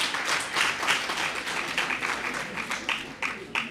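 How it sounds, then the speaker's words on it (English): An audience at a World Teachers Day event applauds after a performance. The clapping is loud and dense, with a ragged rhythm of sharper bursts. "A big round of applause,"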